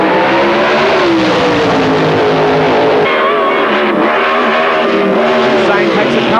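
Drag racing cars, Super Stock class at the ANDRA Spring Nationals, roar loudly down the strip, a sustained, close engine blare that shifts in pitch as they accelerate, with an announcer talking over it.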